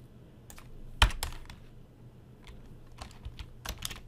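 Typing an email message on a computer keyboard, with a few sharp isolated keystrokes and short bursts of clicks spread unevenly over a few seconds, faint and close against a low steady background hum.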